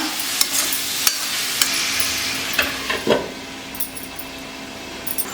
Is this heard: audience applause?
no